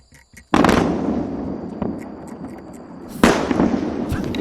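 A heavy, distant rumbling blast from a SpaceX Starship explosion rolls in suddenly, followed by a second sharp boom and sustained crackling roar.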